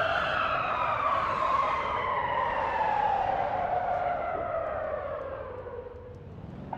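A V8 turbo limousine in the racing game Motor Town brakes hard from about 200 with the handbrake pulled, giving a loud, sustained tire screech whose pitch slides steadily downward for several seconds and then fades.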